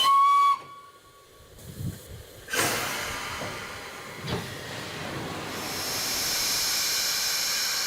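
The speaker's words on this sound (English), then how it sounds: "Steam fills Tornado's cylinders." The Tornado steam locomotive, a new-build engine tested at Doncaster Station, releases loud, steady hissing steam after a brief whistle-like tone, with a few clanks before the hiss swells and holds.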